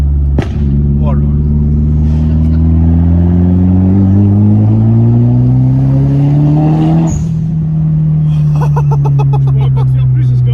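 A Nissan 200 SX S13 engine holds a loud, rising rev with a steady droning exhaust, drops sharply, then settles into a lower drone while crackling pops stutter near the end.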